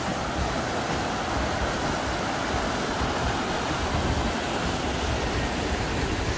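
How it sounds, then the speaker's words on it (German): A brook flows along the Areuse river near Fleurier in the Jura, giving a soft, steady rushing wash of water that stays even and unbroken throughout, with no voices. "Diesen Bach da kennen wir auch schon."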